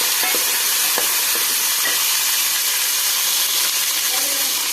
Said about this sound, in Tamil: இதுக்கு ஒரு நூறு சின்ன வெங்காயம் போட்டுக்கிடுங்க இதையும் நல்லா வதக்கி விடலாம்